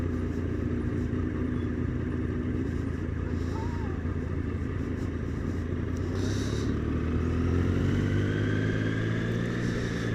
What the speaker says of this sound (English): at least you get a better picture of how many bikes there are here as we ride past them all